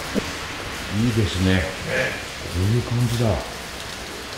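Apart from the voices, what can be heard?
heavy rain falling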